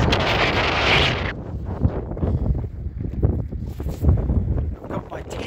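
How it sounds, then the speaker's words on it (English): Strong gusts roar across the microphone aboard a small dinghy at anchor on open water, loud and buffeting at first, then easing into a choppy rumble. "Wind's come up."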